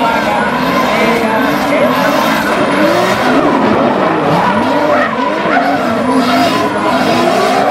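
Drift race cars on a race day at an East Pattaya drift club, loud continuous engine roar with sweeping squealing tires and skidding, close and dense, with a crowd faintly behind.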